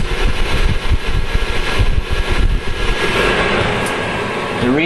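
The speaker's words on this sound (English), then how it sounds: "You can hear the exhaust." A steady, loud roaring whoosh of a 10 lb coffee roaster's exhaust fan running continuously, broadband and droning with no pauses.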